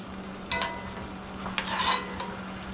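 A spoon stirs a thickening, reducing sauce in a pan, giving a few short scraping strokes over a constant low hum and a light background hiss.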